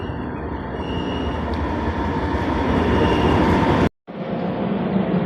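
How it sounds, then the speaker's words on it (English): Light rail trains rolling slowly into a station, a loud, close, continuous rumble and rattle of wheels on track that cuts out briefly for a moment before resuming. "These trains are rolling in super slow."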